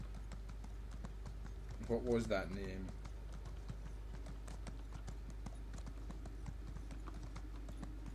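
Horse hooves clip-clop in Elder Scrolls Online, a steady quick rhythmic patter under a quiet game hum, with a brief spoken question partway through.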